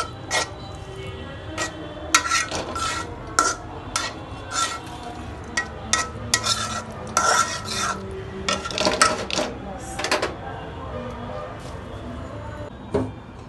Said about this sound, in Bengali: এভাবে এখন আমি মাংসটাকে নেড়ে দিব।